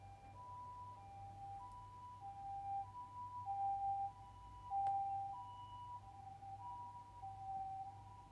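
Emergency vehicle siren wailing steadily in the background, a sustained two-tone pitch rising and falling over several seconds, moderately distant and alone without talk.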